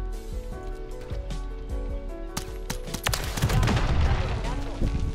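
Gunfire in the Modern Warfare 3 multiplayer video game, with sharp shots in the opening seconds and then a louder burst of rapid fire and explosive blasts over game music, with a voice talking.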